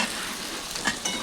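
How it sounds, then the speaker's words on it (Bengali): Ground spice masala with salt, tomato and green chillies frying in oil for a Bengali fish curry, a continuous near sizzle with light stirring clicks over a short stretch. "মশলাটা ভালো করে ভেজে নিতে হবে একদম বড়িয়া করে"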